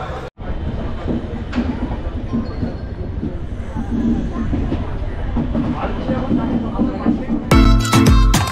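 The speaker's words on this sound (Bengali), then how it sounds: "9:15-এ আমাদের ট্রেন ছেড়ে দিল।" A passenger train bound for Balasore pulls out and runs along, with a steady close rumble of wheels and carriages and a loud clatter near the end, while people talk over it.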